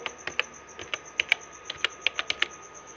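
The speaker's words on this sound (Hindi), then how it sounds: "और यहाँ से कंप्यूटर टाइप करेंगे" Close, steady typing on a computer keyboard, with a dozen or so distinct key clicks at an uneven pace and no voices over them.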